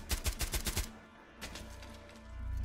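Suppressed gunfire in Rainbow Six Siege: a rapid burst of about eight muffled, clipped shots, followed by a brief second short burst, then low ambient rumble.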